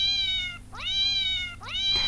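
A phone app plays synthesized cat meows: two drawn-out, tonal mewing calls in succession, clear and close with a short gap between them and no talking.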